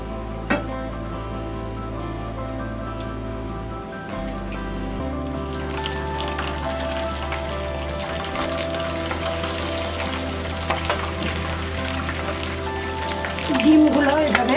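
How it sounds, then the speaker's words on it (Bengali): Batter-dipped eggs fry in hot oil in a pan for an egg chilli dish, giving a steady crackling sizzle that runs throughout, with a low hum underneath and a brighter burst of spattering near the end. "এখন আমি ডিমগুলো ব্যাটারের মধ্যে করে চুবিয়ে নিয়ে আমি ভেজে নিব।"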